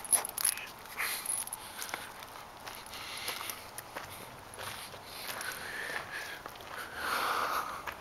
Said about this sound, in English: I know you got a sniff of something. What do you got a sniff of?